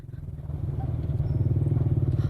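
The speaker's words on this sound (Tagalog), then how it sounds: "Sundan na to katong motor nga bago palang nigikan" A motorcycle engine rumbles close by with a deep, steady, pulsing throb that swells slightly louder as it runs, alone without voices.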